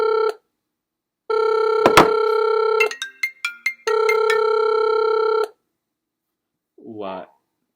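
A phone ringtone plays through a Bluetooth-connected microphone, coming in two long steady bursts of bright, repeating tones separated by a short break, loud and close. A brief burst of speech follows at the end.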